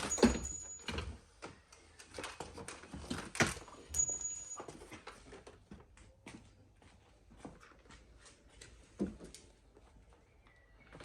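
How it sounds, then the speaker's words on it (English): Plastic trim clips popping and the door card of a 2006–2013 BMW E92/E93 3 Series coupe being tugged loose by hand, giving scattered knocks, creaks and rustles at close range, with a couple of sharper snaps early on. "you should be able to pull the rest of the clips by hand, including all the ones at the top"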